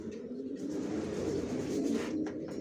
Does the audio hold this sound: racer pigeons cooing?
yes